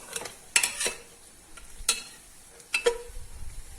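A spoon stirs papaya halwa with added milk in a pan, giving a few quiet scraping, clinking strokes at irregular intervals over a faint sizzle, close and alone.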